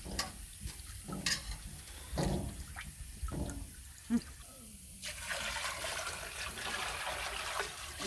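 Water poured off a pot of keşkek being cooked on a wood stove, a splashing, gurgling pour that builds after a few scattered knocks and clatters and then runs steadily to the end.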